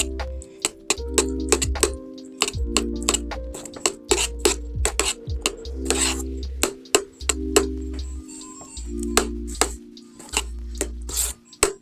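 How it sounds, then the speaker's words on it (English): A spoon stirs a veggie dip seasoned with paprika, annatto and black pepper in a bowl, making repeated close scraping strokes in a steady rhythm over a low background hum. "Stir that up really, really good up in here."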